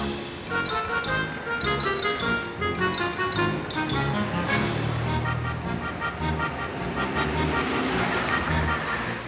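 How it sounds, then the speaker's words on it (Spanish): Cars and trucks pass continuously on a potholed road on a foggy day, a steady, moderately loud traffic rumble with overlapping vehicle noise and no gaps. "Coches y camiones pasan continuamente, pegando botes."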